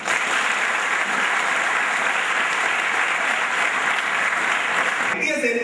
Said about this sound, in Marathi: त्या शब्दासाठी टाळ्या वाजवा आणि जोरात वाजवा